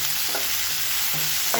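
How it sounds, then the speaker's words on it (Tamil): Onions and tomatoes sauté in a pan with a continuous close sizzle, broken by a few short scraping stirs of a utensil. "இது எல்லாமே நல்லா வதங்கட்டும்."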